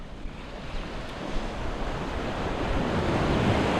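Sea waves break and wash onto the beach at Bagda on the Dublagadi twin sea beach, a steady roaring surf mixed with wind noise that swells slightly louder toward the end, with no talking.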